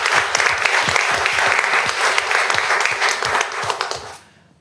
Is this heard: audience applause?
yes